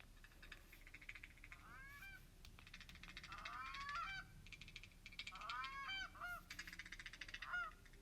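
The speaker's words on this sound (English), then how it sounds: "Just kidding. That's a goose." A goose honks repeatedly in a series of loud, nasal calls clustered in bursts with short gaps, and no talking.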